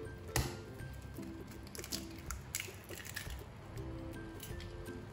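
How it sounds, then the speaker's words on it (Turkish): Hands knead a bulgur köfte mixture with flour, egg, salt, black pepper and cumin, making soft, quiet, wet squishing and pressing sounds in an irregular rhythm under background music. "Bulguru iyice yoğuruyorum."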